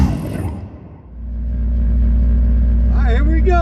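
A car with a 5.7 liter Hemi engine idles and rumbles loudly and close in a race setting, a deep steady low-frequency throb that builds after a brief lull; people speak over it.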